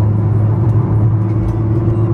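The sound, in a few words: 1969 Chevrolet Camaro car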